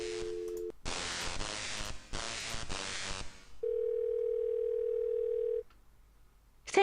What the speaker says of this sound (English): So seeing as how Franklin is right next to a phone, we'll use him to call it